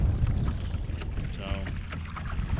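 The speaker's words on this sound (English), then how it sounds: "it's only a 27-pound thrust trolling motor." A kayak with a 27-pound thrust trolling motor moves across open water, giving a steady low rumble and wash mixed with wind buffeting on the microphone, with no talk.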